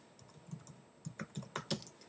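Computer keyboard being typed on during a Minecraft Creative session, quick uneven key clicks close to the microphone at a low level.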